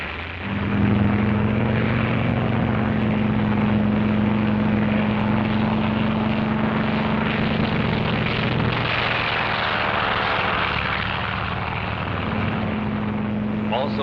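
Steady droning engine roar of planes taking off from an aircraft carrier at the 1946 Bikini tests, loud and continuous with a sustained low hum and broadband rush throughout, no voices.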